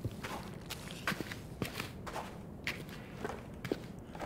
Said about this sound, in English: Hear the footsteps?